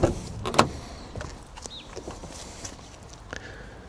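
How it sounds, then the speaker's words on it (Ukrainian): Electric side mirrors folding on a 2019 VW Passat Alltrack HighLine, a few sharp clicks and thumps at the start followed by a faint motor whir and scattered small knocks, close and quiet. "Зеркала, до речі, теж складаються."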